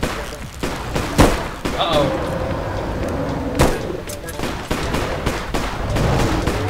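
Repeated gunfire in the Bigfoot video game: sharp shots crack out irregularly over a steady ambient bed, with a few louder blasts standing out, while players talk and exclaim over the action.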